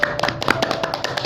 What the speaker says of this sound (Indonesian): Beri tepuk tangan semua untuk kelas 12 Multimedia 1